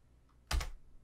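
Keys tapped on a computer keyboard while scripting in Roblox Studio: a single short burst of two or three quick clicks, close and fairly loud, with near silence before it.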